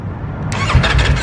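A 2020 Streetfighter motorcycle with a full Akrapovic exhaust, baffles removed, fires up after a squealing starter crank, then settles into a loud, close, deep and throaty rumble.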